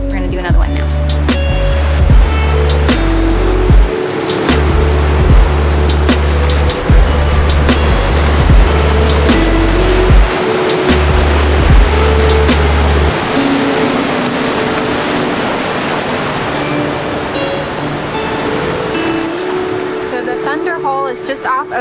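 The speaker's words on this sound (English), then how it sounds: "the waves crashing on the rocks" Ocean waves crash against the rocky shore by Ocean Path in Acadia National Park, Maine, a loud roaring surge with low rumbling and wind buffeting, the wash swelling and receding over about twenty seconds.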